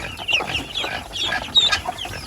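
Several farm chickens cluck in quick, overlapping bursts close by, a busy rural barnyard sound with no voices.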